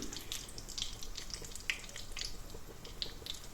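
Bay leaves, dried chillies, cloves, cardamom, cinnamon and a piece of star anise fry in hot oil for a Bengali-style fish curry, with a steady, faint sizzle and scattered small pops and crackles throughout.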